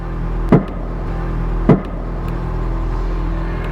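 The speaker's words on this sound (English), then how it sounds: "Sometimes those creaks and stuff you hear in that is just the bags themselves will make a little noise" Two sharp knocking pops about a second apart from air suspension bags stand out over a steady low vehicle hum, with no talking.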